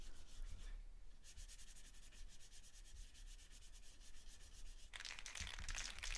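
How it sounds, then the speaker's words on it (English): Light hand sanding of an old 1990s wall clock: quiet, steady rubbing strokes in an even rhythm, close by, with no talking. "I then gave the clock a light sanding."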